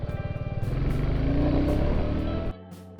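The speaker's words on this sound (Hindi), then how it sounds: "थंप अभी थोड़ी सी आ रही है लो स्पीड पे।" A 2021 Royal Enfield Classic motorcycle engine runs at low speed with a close, rhythmic low thump that builds into a steady throb, then drops abruptly to a lighter idle.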